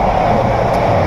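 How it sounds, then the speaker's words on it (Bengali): A passenger train racing along at over 75 km/h, heard from onboard near the canteen, gives a loud, steady rumble and roar with no break and no speech. "ট্রেন চলতেছে ঝড়ের গতিতে"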